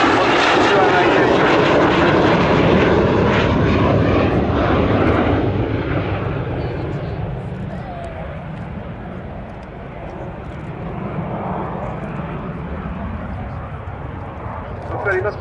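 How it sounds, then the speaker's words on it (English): An airplane, the successor to the Vampire, flies past at the Yeovilton Air Day airshow with a loud, full engine roar that slowly fades and dulls as it moves away, while a voice talks over it. "This wonderful airplane flying out here today."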